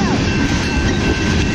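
Loud, close freight train rumble with rhythmic wheel clatter as cars roll past near the distributed power unit, a steady dense roar throughout.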